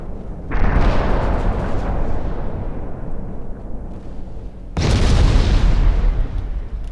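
Heavy naval gunfire in a warship battle game, a shell strike on a secondary gun: two long roaring booms, each a sudden loud blast rumbling on for seconds, with a deep low-end rumble.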